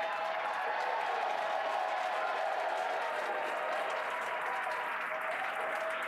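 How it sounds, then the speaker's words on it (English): At SpaceX Mission Control in Hawthorne, a crowd claps and cheers for a Falcon 9 booster landing, a dense, steady roar of applause that holds at full strength from start to finish. "Crowds cheering here at SpaceX Mission Control Hawthorne as we tune in to see if we stick the landing."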